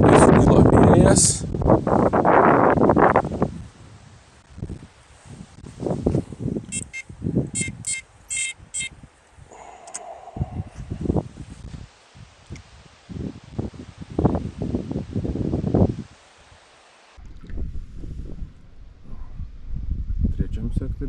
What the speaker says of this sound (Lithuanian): Labai sukyla vėjas.